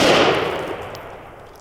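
A single loud 5.56 rifle shot hits a cheap $20 body armor plate outdoors, a sharp close crack that rings and decays over about a second and a half.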